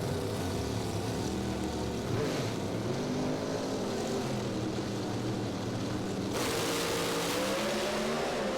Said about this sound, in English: Oh, big wheel stand from Barbagallo right off the start line